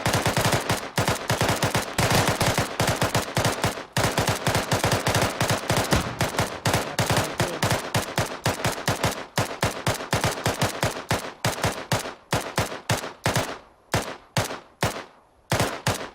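Rapid bursts of automatic rifle fire during a platoon training exercise, sustained volleys with dense repeated shots for over ten seconds, loud and close, thinning into spaced single shots near the end.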